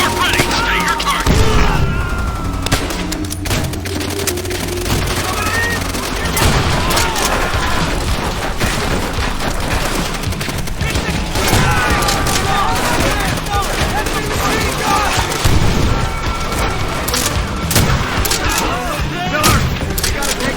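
An artillery fire support barrage in Call of Duty: World at War, a dense, loud, continuous rumble of booming explosions and gunfire lasting the whole stretch, with shouted voices mixed in.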